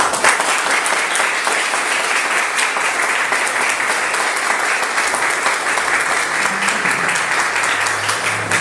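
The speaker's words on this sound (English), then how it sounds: "he deserves a great hand of applause for what he's done today" Sustained audience applause at a New Orleans arts event, a dense, even roar of many hands clapping that holds steady without pause, with a faint low hum creeping in near the end.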